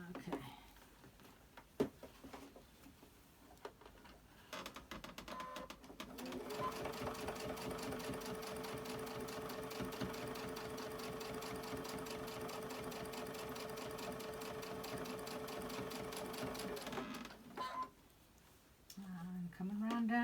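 A sewing machine stitching a fabric bowl cozy, with a few single stitches and pauses at first, then a long steady whirring, rattling run close by that stops near the end, with a voice speaking in places.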